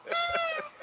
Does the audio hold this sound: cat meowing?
yes